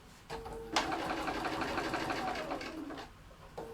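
Sewing machine stitching fabric for a door knob pocket: a steady mechanical whirring run of about two seconds with a brief start and stop, close and moderately loud, no talking.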